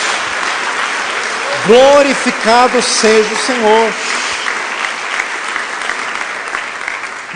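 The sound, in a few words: congregation applauding for Jesus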